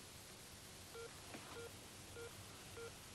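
A telephone line after the caller has hung up gives short repeated tones, about four faint beeps spaced roughly evenly, over a steady hiss with no talk.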